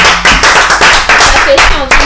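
Audience applause, a short burst of rapid, close hand claps from a small group, with a voice calling out partway through.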